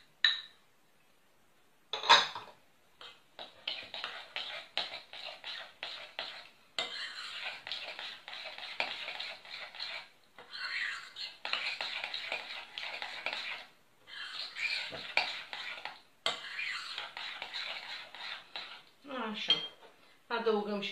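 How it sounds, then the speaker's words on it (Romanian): A utensil stirs a honey and sugar mixture in a bowl, scraping and clinking in rapid repeated bursts with brief pauses, close and fairly quiet. "Amestecați bine toate ingredientele până se topește zahărul"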